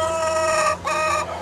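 A large backyard rooster, tall and upright, clucks and calls in a loud close sustained vocalization with a brief break in the middle.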